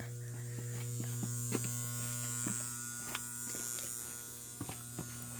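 A 1980 Carrier gas furnace runs with a steady low mechanical hum, faint clicks and knocks scattered throughout, no voices present.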